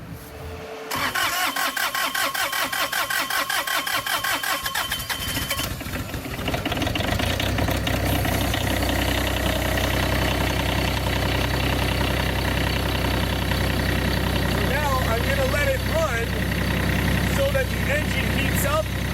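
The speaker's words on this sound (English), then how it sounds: "Now I'm ready to start the engine." A Bobcat 463 skid steer loader's engine cranks, catches and settles into a steady, loud mid-pitched idle heard up close, with no talk over it.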